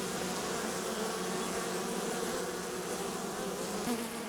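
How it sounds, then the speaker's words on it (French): Steady, dense buzzing of many honeybees close by at a newly hived swarm in an apiary, a continuous drone with no pauses or voices. "Il y a des abeilles dans le trou."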